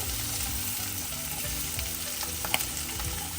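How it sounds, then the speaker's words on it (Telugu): Corn is fried lightly in a pan with a soft, steady sizzle that runs throughout, broken by a few quiet stirring clicks near the end. "ఇలా కొంచెం ఫ్రై చేసుకుందాం. ఎక్కువసేపు ఫ్రై చేయకూడదు, లైట్గా కొంచెం సేపు ఫ్రై చేసుకోవాలి."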